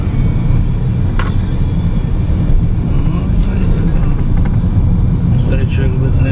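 A car drives along a road in Ireland, keeping left, with a steady, loud rumble of engine and road noise heard from inside the cabin while people talk over it.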